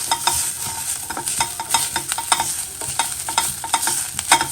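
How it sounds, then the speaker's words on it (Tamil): Grated fresh coconut roasting in ghee in a pan, stirred steadily with a spoon, giving a close, continuous dry sizzle broken by repeated scraping strokes. "இது வந்து தேங்காய் துருவலை வறுத்துக்கிறதுக்கு, அதான் நெய்யில் வறுத்துக்கலாம்."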